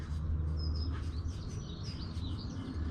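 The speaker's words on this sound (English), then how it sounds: "As you can hear the birds tweetering probably as well." Birds tweet outdoors near a moored narrowboat, faint scattered high chirps over a low steady background rumble, no voices.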